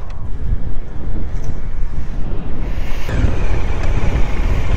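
Strong wind at the Navotas reclamation project, with trucks hauling fill, roars into the microphone in heavy, continuous gusts, loud and rumbling with no talking.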